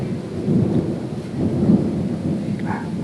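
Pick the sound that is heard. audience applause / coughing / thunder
thunder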